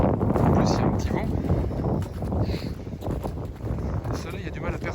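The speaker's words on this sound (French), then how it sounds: "En plus, il y a un petit vent." Gusty outdoor wind buffets the microphone on a cold path beside vineyards, a steady broadband rumble with voices talking over it throughout.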